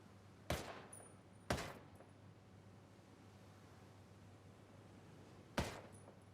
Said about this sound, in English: Let's go for a single shot so we don't accidentally fire off a few rounds